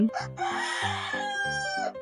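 A rooster in a village crows loudly and close by, a single long cock-a-doodle-doo with a rising start and drawn-out call, accompanied by overlapping clucking fowl.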